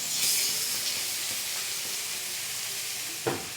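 Chopped onion and capsicum sauté in oil for a momos filling with a soft, even sizzle. A short, louder stirring clatter comes near the end.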